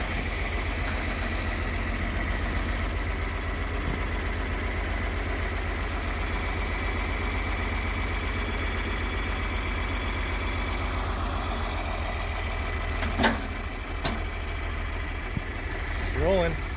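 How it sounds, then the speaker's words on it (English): A tractor engine idles with a steady low rumble throughout, with a couple of brief clanks near the end. "we hooked it up to the tractor, and we're going to pull it all the way to his shop"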